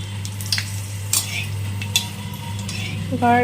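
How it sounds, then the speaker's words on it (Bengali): Dried red chillies crackle as they hit hot oil, giving a close, steady sizzle with a low hum beneath it and several spoon taps and scrapes, before a brighter clatter at the end. "এখন ফোড়ন দিয়ে দিব শুকনো লঙ্কা।"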